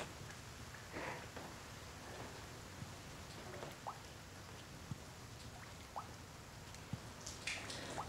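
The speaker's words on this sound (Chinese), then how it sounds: "陪我坐下听会儿雨。" Steady soft rain falls in a southern Chinese town, with scattered separate drips and drops tapping nearby surfaces at an irregular pace, quiet throughout and with no voices.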